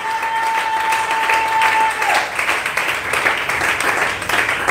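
A church congregation applauding at a worship service in French, dense steady clapping sustained throughout, with a brief tone early on and a voice faintly audible beneath.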